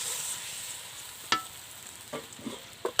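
Tomato with turmeric and spices frying in a pan with a little added water for a small fish curry, a soft continuous sizzle with a few scraping stirs from a spoon.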